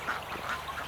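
Free-range farm ducks give a few soft, close quacks in quick succession, with no talking over them.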